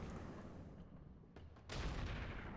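Mech cannon fire in the RogueTech battle game: a sharp burst of broadband impacts, with a louder boom swelling in near the end, over a constant rumble of game noise and no voices.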